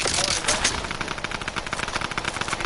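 Rapid gunfire in the Fortnite video game, with automatic bursts and sharp repeated shots running steadily throughout at a fairly close, loud level over busy game noise.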